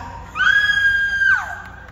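A person at a Philippine festival parade event lets out a single sustained, loud scream on request, held for about a second before trailing off, with crowd noise underneath.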